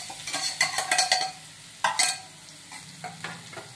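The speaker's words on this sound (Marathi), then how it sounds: "आता कैरीच्या फोडी टाकून घेत आहे।" Raw mango pieces tossed into a hot pan with turmeric and chili powder are stirred with a utensil, giving bursts of scraping and clinking over a soft sizzle, then a quieter pause before a few more stirs.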